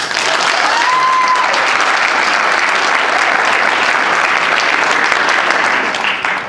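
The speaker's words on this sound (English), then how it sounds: "So can we give the committee another round of applause?" Sustained, loud applause from a dinner crowd at a 30-year high school class reunion, steady and dense throughout with no pauses.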